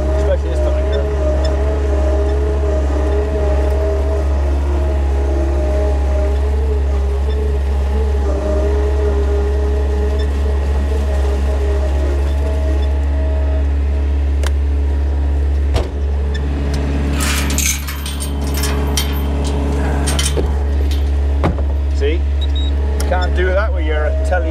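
A Husqvarna machine's engine drones steadily and loudly at close range throughout, a constant low hum with brief clanks and a burst of clatter toward the end.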